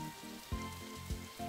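Rain falls on a rainy day in the farming game Story of Seasons: Pioneers of Olive Town, a faint, steady patter under looping game music with a couple of soft thuds.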